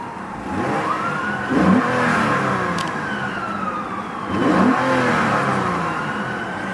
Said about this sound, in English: I'll give you a quick rev, and you can see what I mean about the V6 does sound fantastic